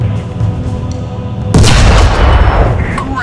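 A tank cannon firing in War Thunder, a single loud, sharp blast halfway through followed by a ringing, rumbling tail, after a low idling engine hum.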